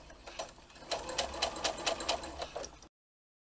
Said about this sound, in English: Sew using a 1/4 of an inch seam, leaving a turning gap of about 2 to 3 inches on the bottom